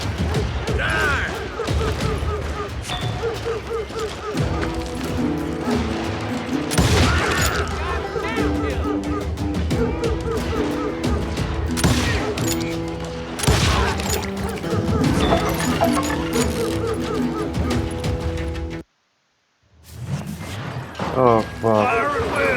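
Dense volleys of gunfire from the Western shooter Call of Juarez: Gunslinger, loud and rapid with crashing impacts and booming shots over a busy score, with shouting voices throughout and a brief dropout near the end.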